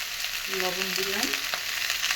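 Cucumber curry sautés in hot oil with a steady crackling sizzle. A short tonal squeak rises midway, probably from a utensil dragging on the pan. No one speaks.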